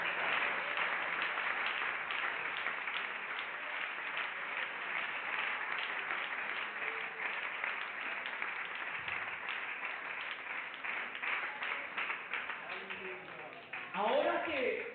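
A church congregation applauds for Jesus during a worship service, a long, steady wash of clapping that fills the room, with voices rising near the end.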